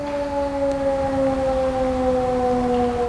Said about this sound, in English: That's the community siren winding down.